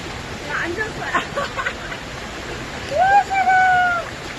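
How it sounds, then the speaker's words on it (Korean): A valley stream flows with a continuous soft hiss and splash of running water. A person speaks briefly over it near the end. "물소리 들리시나요,"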